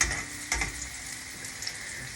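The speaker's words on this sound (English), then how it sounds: "So you can see it's all sizzling in here now." Garlic fries in a hot pan with a continuous close sizzle and a couple of brief louder crackling bursts, steady throughout.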